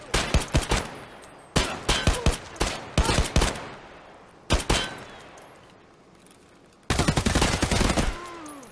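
Pistol fire in the shooter game Escape from Tarkov, loud sharp shots in rapid bursts of several rounds separated by short pauses, ending with a dense volley of overlapping gunfire and echoing tails.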